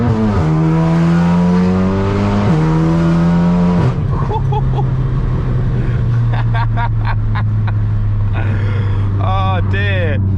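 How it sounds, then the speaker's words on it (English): A tuned stage 3 500bhp VW Golf R pulls hard in second gear on a damp, cold road, engine note climbing sharply, briefly dropping at a shift-like dip, then droning steadily before sputtering crackles and a voice near the end. "Let's try a second gear pull here."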